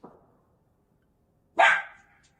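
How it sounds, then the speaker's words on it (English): A dog gives a single loud, sharp bark after a faint earlier yelp, short and close, with silence around it. "that dog was kind of like a little barking a little"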